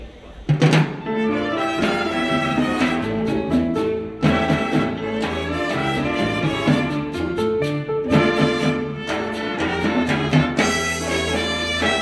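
A full orchestra plays a Cuban-Mexican danzón in a dance-hall setting, with a steady, loud ensemble sound carrying brass and strings throughout and a brief pause partway through.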